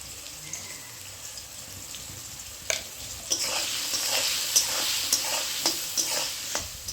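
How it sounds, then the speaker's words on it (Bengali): Potatoes fry in hot oil seasoned with salt and turmeric, giving a steady sizzle broken by several sharper scrapes and clatters as a spatula stirs the pan. No one speaks. "আলুগুলি ভাজা হয়ে গেছে।"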